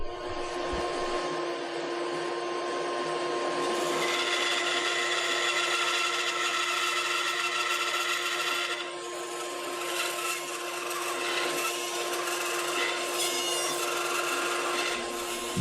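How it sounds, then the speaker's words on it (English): A bandsaw cuts the front or side profile out of a wooden carving blank, a steady, loud buzzing whine with a continuous rasping bite that shifts in intensity as the cut progresses, with no voices. "The way that I go about cutting out the blank is by sawing out either the front or side profile."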